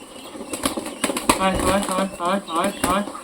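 Pigeons in a Bengali home loft of about thirty-three birds flap their wings in repeated bursts close by, mixed with soft cooing and a voice talking throughout.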